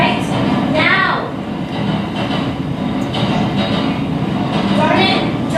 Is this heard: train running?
yes